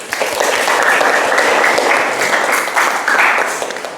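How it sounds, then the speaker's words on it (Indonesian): Schoolchildren applaud in a classroom during a teacher-training lesson: a steady, dense wash of clapping from many small hands that holds for about four seconds at fairly close range, with no voices over it. "Tepuk tangan."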